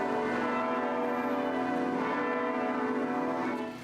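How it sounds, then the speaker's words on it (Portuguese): Church bells of the Catedral da Sé in central São Paulo peal continuously with dense, layered ringing tones, loud and sustained for the whole stretch, with no talk over them. "Os 61 sinos da Catedral da Sé têm hora certa para tocar."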